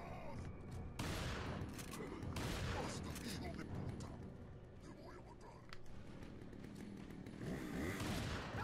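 A chainsaw-wielding enemy in Resident Evil 4 on the Wii buzzes steadily through dense game action, with gunfire bursts, effects and a player talking over the din throughout.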